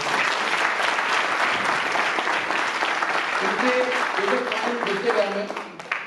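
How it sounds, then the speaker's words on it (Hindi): An audience applauds Dr. Murtaza Shaikh at an AWPL business gathering: loud, continuous clapping from a crowd. A few musical tones come in toward the end as the applause fades slightly. "उनके लिए जोरदार तालियां दोस्तों।"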